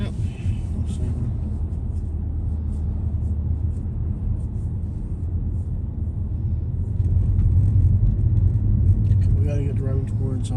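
Car interior on a road in Georgia amid tornado-damage aftermath, a steady low engine and road rumble that swells louder partway through, with people talking over it.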